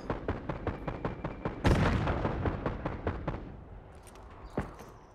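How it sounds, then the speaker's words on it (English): A frag grenade explodes in the Call of Duty Black Ops 6 video game. A loud, sharp blast with a long rumbling tail follows a fast rhythmic burst of gunfire, and scattered smaller pops come afterward. "Frag going out."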